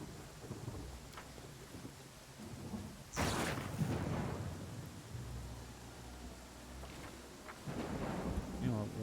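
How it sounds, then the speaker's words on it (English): A thunderstorm in Pathfinder: Kingmaker, with steady rain hiss and a sharp close thunderclap followed by low rumbling, and faint talk underneath. "Those lightning strikes are extremely close to me."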